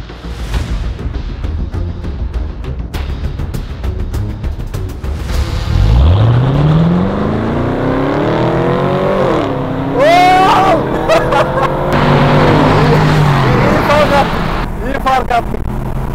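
A Camaro and a Mercedes launch in a drag race, engines surging loud and close with a rising pitched roar and sharp gear-change whines, amid crowd noise and talking.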